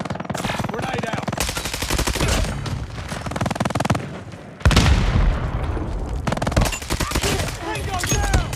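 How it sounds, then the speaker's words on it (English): Rapid machine-gun bursts and repeated gunfire crackle through a Call of Duty Mobile firefight, with a heavy grenade blast near the middle, dense, loud and continuous. "Grenade out!"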